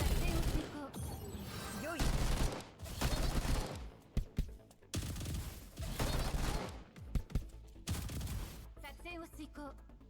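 Rapid bursts of gunfire from a Shot skill attack in the video game Girls' Frontline 2, loud fusillades with mechanical clicks, broken by short pauses and mixed with game effects.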